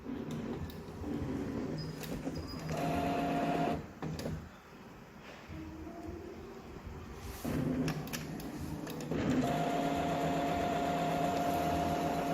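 A Brother DCP T710W inkjet printer runs a print-head cleaning cycle, with a steady mechanical whir and hum, low motor tones and occasional clicks and knocks, heard alone with no talking.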